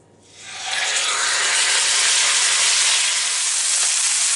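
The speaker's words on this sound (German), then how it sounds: "Nun kommt in meinen Bräter wieder Öl rein. und darin brate ich jetzt mein Fleisch rundum an." Veal sizzling as it sears in hot oil in a roasting pan, a steady loud frying hiss that swells up within the first half second and then holds evenly, with no voices.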